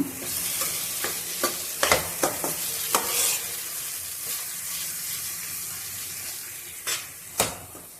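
Mango chutney cooking in a pan over a low flame is stirred with a spoon, giving scattered scraping clicks over a steady soft sizzle. No one speaks.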